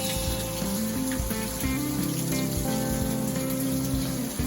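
Running water pours steadily over beans being rinsed for chili, a continuous splashing hiss on top of a low steady hum, with no voices.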